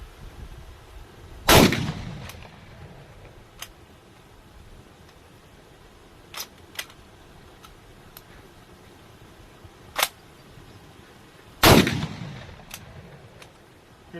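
A Pardus LAX12 lever-action shotgun fires two loud, sharp shots about ten seconds apart. Fainter metallic clicks from the lever cycling fall between them.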